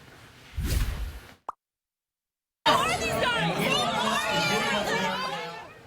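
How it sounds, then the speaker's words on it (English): Screaming and cheering from a crowd at a legislative town hall in Coeur d'Alene, a loud dense roar of overlapping voices after a brief burst and a short silence, sustained and close throughout. "Screaming and even cheering at a legislative town hall in Coeur d'Alene"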